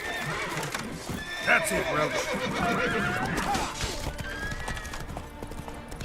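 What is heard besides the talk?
horse Roach neighing and galloping in video game The Witcher 3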